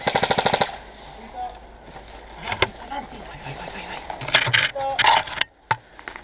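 Rapid bursts of airsoft gunfire during a match in Portogruaro, with a loud burst at the start and scattered shots and clacks later, while players call out instructions over it.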